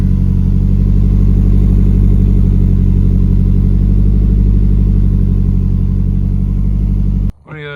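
A Nissan S13 with an SR20 engine running at a steady idle, a loud close rumble with a fast regular pulse, ending abruptly as a voice begins to speak.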